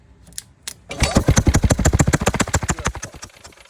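A Yamaha golf cart engine, sprayed with ether and fitted with a spark plug, cranks briefly and then catches, firing in a rapid, loud, steady chug for a few seconds.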